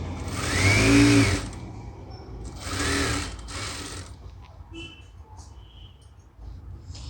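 Domestic sewing machine stitching fabric for a saree, with two loud runs of motor whir and needle chatter, then quieter handling noises afterward, no talk.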